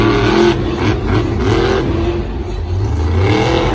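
Loud monster truck engine at a Monster Jam stadium event in Santa Clara, roaring and revving with rising and falling pitch, heard close and continuous over crowd noise.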